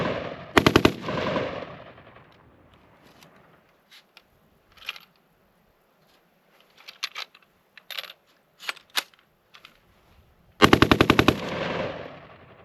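Rapid bursts of automatic fire from a GAU-5 style rifle fitted with an Atrius Super Selektor, loud and close, with a long string opening and closing the clip and scattered short strings and single shots between, no talking.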